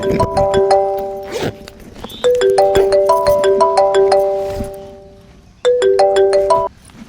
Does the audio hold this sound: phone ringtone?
yes